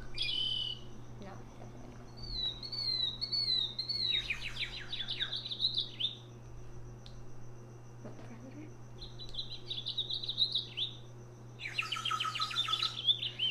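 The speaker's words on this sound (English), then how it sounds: "That's an owl." A plastic bird sound toy plays electronic bird calls, including an owl call, as a series of high chirping, warbling bursts separated by pauses over a steady low hum, fairly faint and close.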